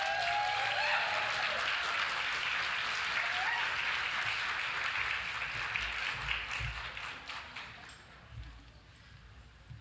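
An audience at a talk gives warm, sustained applause to welcome a speaker to the stage, loud at first, then fading gradually into scattered claps near the end.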